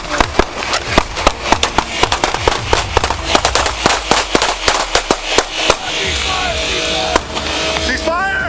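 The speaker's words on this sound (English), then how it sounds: "Gunfire erupted across the parking lot." Rapid gunfire rings out during a police confrontation in a parking lot, a dense volley of sharp, loud cracks for several seconds, then a few scattered shots over lingering noise and shouting.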